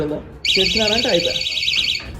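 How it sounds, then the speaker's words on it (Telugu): A door security alarm device shrills continuously with a loud, warbling electronic siren after the door is opened, while someone talks over its start. "తర్వాత ఈ డోర్ ని ఎవరు ఓపెన్ చేయడానికి ట్రై చేసినా గానీ అది అలారం సౌండ్ అయితే ఇస్తుంది ఇలాగా."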